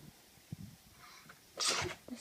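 A single sharp sneeze bursts out near the end after a quiet stretch of a toddler reading lesson, followed by a brief sniff or breath.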